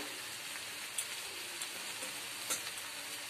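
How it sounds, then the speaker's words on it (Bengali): Aloo dum masala sizzling in a frying pan as it is stirred, a steady close crackle with a few sharper pops, alone. "এবার আমি মশলাটাকে খুব ভালোভাবে কষিয়ে নেব"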